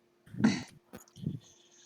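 A dog in a room gives a couple of short, sharp barks or yelps close by, separated by brief pauses, with a quiet click between them.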